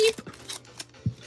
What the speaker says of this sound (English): Let's go ahead and snip this.